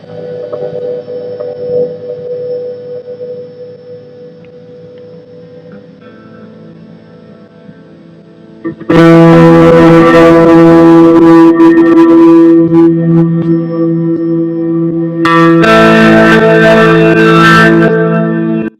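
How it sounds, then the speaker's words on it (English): Ambient electric guitar through a Boss DD-7 delay pedal rings out with long echoing delay trails, starting soft and swelling louder midway, with sustained chords washing over each other. "that's what the guitar track on mix sounds like"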